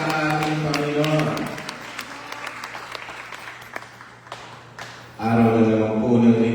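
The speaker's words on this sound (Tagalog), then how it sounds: "Pwede ba bigyan natin yung sa malakas ang palakpak si Lord? Yung the best na palakpak para sa ating Panginoon." A church congregation applauds for the Lord at a Sunday Mother's Day service: steady, dense clapping that starts under a speaker's sustained voice, runs on with scattered sharp claps, then swells as the voice returns over it.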